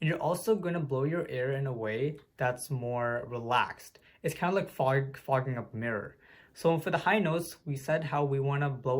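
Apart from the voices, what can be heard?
No distinct noise like a dog, phone or traffic.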